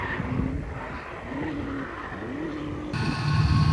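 A previously abandoned Mazda RX7 FC drift car revs hard in repeated rising and falling sweeps, close and loud. Tire squeal is mixed in, and the engine climbs to a higher, stronger pitch near the end.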